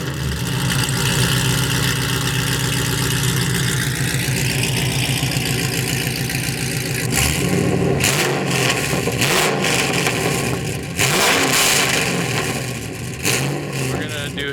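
A BMW M3 GTR engine with a straight-pipe exhaust idles with a deep, pulsing burble, then revs sharply in a series of loud, rising and falling blips, heard up close from behind the car with voices talking over it.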